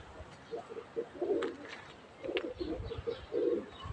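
Pigeons cooing near a tumbler pigeon loft, several soft, low, throaty coos in short bursts, close by over faint outdoor background noise.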